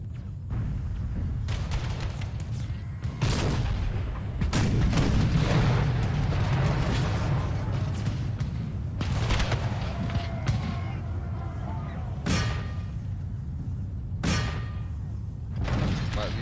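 Repeated booming artillery fire from a Civil War battle in the Empire: Total War game, several heavy thumps over a rumbling battlefield bed with distant gunfire, no talk.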